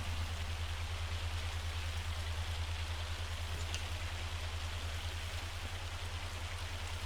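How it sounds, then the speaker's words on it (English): Hail falls in the video game Farming Simulator 25 as a steady, dense patter of rain-like hiss with a constant low drone underneath. The sound is continuous and even, with no voices. "since it is hailing"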